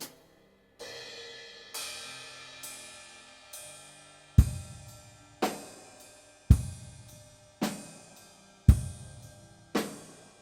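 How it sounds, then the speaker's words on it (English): A hi-hat cymbal on a drum kit is struck about a dozen times, each hit close and ringing before it fades, with some heavier low thumps mixed in and no talk. "The hi-hat."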